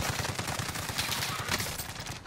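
Fast steady automatic gunfire in Warzone on Rebirth Island, a continuous rattling stream of shots at moderate loudness, with no talk over it.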